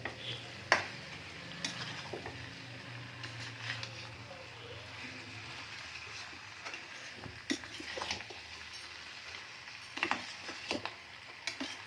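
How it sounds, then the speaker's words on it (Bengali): A spoon stirs potato dum in a pan after fresh coriander leaves go in, with soft scraping and sporadic sharp clinks of metal on the pan over a faint sizzle, quiet and close. "ধনে পাতাটা দেওয়ার পর আমিও আবারও একটু নাড়াচাড়া করে নেব।"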